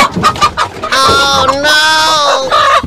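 A rooster in a box clucks and calls loudly up close, its harmonic squawks sustained and rising, with some muffled handling noise at the start.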